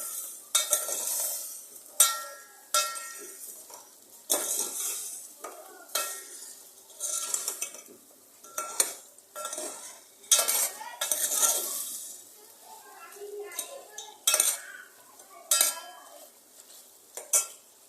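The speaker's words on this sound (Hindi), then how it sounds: "थोड़ा सा भूनेंगे, इससे ज़्यादा नहीं वरना हल्दी जल जाएगी।" Chicken pieces frying in a pot with salt and turmeric for a green karahi, stirred with a utensil: repeated scraping and clinking strokes in an irregular rhythm over a soft sizzle, close and fairly loud, with no talking.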